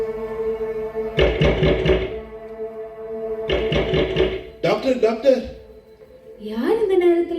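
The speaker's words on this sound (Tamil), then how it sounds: "யார் இந்த நேரத்துல கதவு தட்டுறது?" Knocking on a door, heard as repeated bursts of rapping in two separate sets amid echoing effects, followed by people talking.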